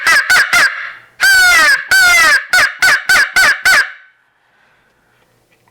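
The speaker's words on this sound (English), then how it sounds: "locator calls, like just your basic crow call" A crow locator call is blown loudly and close for turkey hunting: three quick caws, two long raspy drawn-out caws, then a fast run of short caws before silence.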